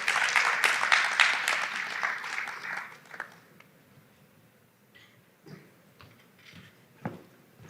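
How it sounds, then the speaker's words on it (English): Applause from a conference audience at a mental health event, dense and fairly loud for about three seconds, then fading into a quiet room with a few scattered knocks and rustles. "Round of applause."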